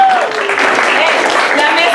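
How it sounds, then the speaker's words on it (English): Applause from diners at a LULAC scholarship award dinner in Greenfield, California, a steady wash of clapping with a whistle and crowd voices underneath. "so let's clap louder."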